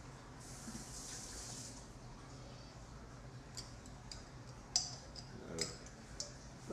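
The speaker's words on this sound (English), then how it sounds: "Let's rinse our spoon." A spoon rinsed under a running kitchen tap, a faint steady water hiss with a few small clinks of metal near the end, quiet and close.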